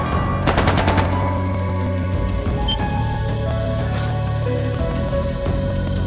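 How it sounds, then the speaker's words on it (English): Rapid automatic gunfire bursts out loud near the start of a scene in the video game Trails of Cold Steel II, a dense rattling volley that quickly gives way to a steady low rumble and ambient game music. "That sounded like gunfire."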